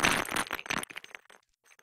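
A complex impact sound model from Unreal Engine 4 plays a quick cluster of small clattering hits that rattle and fade over under two seconds.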